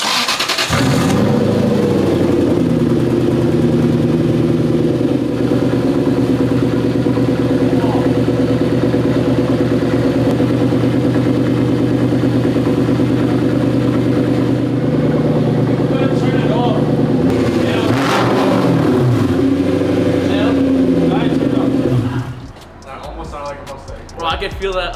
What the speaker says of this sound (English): So we're gonna start Isah's car with an X pipe for the very first time in its life.